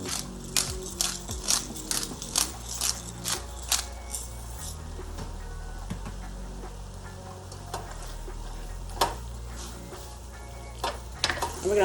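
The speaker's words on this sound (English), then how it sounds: "We're going to let this cook for about 5 to 6 minutes." Beef pepper steak stir fry sizzles in a pan, with a steady frying hiss broken by repeated sharp clanks and scrapes of a utensil against the pan, close and fairly loud, with no talking.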